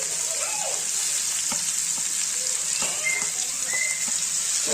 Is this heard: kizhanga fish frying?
yes